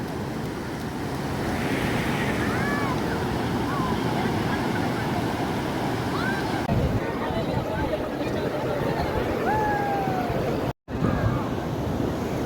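Ocean surf rolls on the beach at Puri as a steady, loud wash of waves and wind, with voices and calls scattered over it and a brief dropout near the end.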